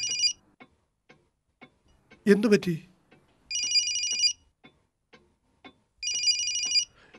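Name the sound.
phone ringing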